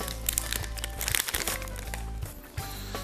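A black tea bag package being unwrapped by hand, close crinkling and rustling of paper with small cracks and tears in quick irregular bursts.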